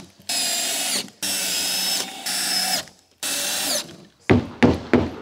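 A power drill whirs in several sustained bursts with short pauses while a wooden skate ramp is built, followed by a few sharp knocks and clunks of wood near the end.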